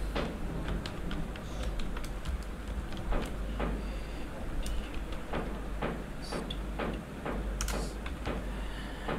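Typing on a computer keyboard while working in MS Word, heard as scattered, uneven key clicks close by over a low steady hum, with no speech.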